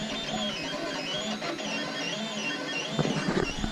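A 3D printer running a GoPro handle print hums and whirs steadily at close range, its stepper motors sliding through shifting tones with a brief busier burst near the end, and no voices.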